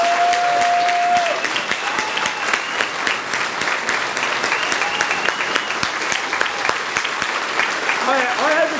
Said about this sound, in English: Give this man an applause.